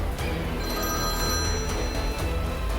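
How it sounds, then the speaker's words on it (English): An old black rotary telephone rings loudly through a house at night, a continuous shrill bell ringing with a steady metallic trill and no voices. "the old black rotary phone suddenly shrilled across the house"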